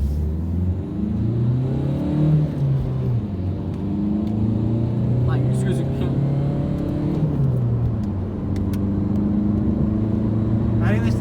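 A Citroën C-Elysée 1.6 HDi diesel accelerates hard from a standstill toward 100 km/h, its loud engine drone rising through the gears with brief drops at each shift, heard steadily from inside the cabin.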